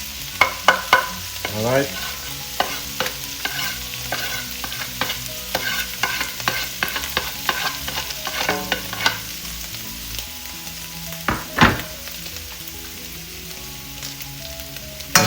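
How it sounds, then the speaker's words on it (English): Garlic, ginger and scallions sizzle in hot oil in a wok for Sichuan mapo tofu, with a steady frying hiss under repeated metallic scrapes and clinks of the stirring utensil, and a brief spoken interjection. "you can now add our garlic, our ginger, our scallions all together"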